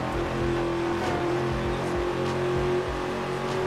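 Dodge Charger SRT8 engine in the racing video game Midnight Club 3, a loud, steady engine drone holding one pitch from start to finish.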